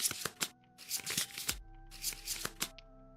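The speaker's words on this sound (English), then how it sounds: "And then triple shuffle." Cards from a tabletop board-game deck in Kingdom Death are shuffled several times in quick riffles, crisp close bursts of flapping and rattling separated by short pauses, with a low hum beneath.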